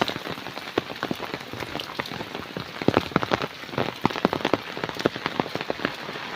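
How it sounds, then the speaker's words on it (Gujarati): Evening rain falls heavily on surfaces outdoors, a dense, close patter with irregular louder splats and drips scattered throughout, steady with no talking. "આજે વધારે સાંજનો વરસાદ પડે છે"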